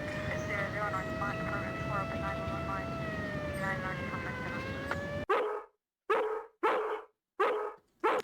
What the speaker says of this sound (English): Examine the dog. Saliva is foaming from its barking chops.